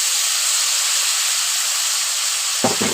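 Boiled papaya and potato pieces dropped into hot spiced oil in a pan, giving a loud, steady hiss of frying that runs unbroken throughout, with a short low clatter near the end.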